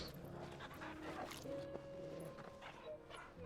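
Torgal, the dog companion in Final Fantasy XVI, pants and gives small yips and whimpers, close and fairly quiet over faint game music and ambience.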